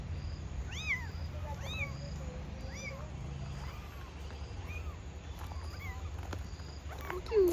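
A small kitten on a village trip gives a series of thin, high meows, several in quick succession then sparser, faint against a steady low rumble of background noise.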